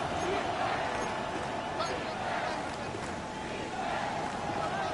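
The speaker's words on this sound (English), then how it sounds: "The noise very loud from the crowd." A loud stadium crowd at a late-game Saints versus Atlanta pro football matchup roars in a dense, unbroken wall of noise that stays steady and overwhelming throughout.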